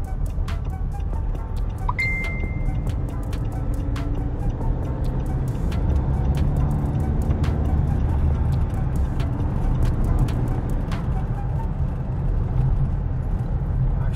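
A Nissan Navara EL with a 7-speed automatic, engine heard from inside the cabin while driving, a low steady drone under road noise with scattered small clinks and ticks.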